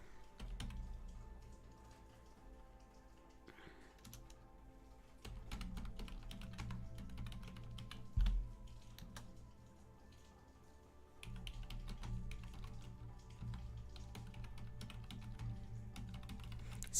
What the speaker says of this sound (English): I'll type it into the chat.